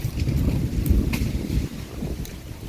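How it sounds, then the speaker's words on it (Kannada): Strong wind roars steadily into the microphone, a dense low rumble with gusty swells and no voices. "ಎಂತ ಗಾಳಿ ಒಳ್ಳೆ ಗಾಳಿ"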